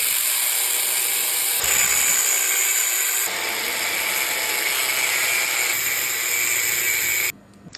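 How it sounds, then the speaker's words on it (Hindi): A power tool cutting four notches into a metal socket during a Bajaj Pulsar engine rebuild, a loud continuous high-pitched grinding whine that shifts slightly in tone before stopping abruptly. "तो इस सॉकेट को मैंने ऐसे 4 जगह से काट लिया है, नॉचेस बना दिए हैं।"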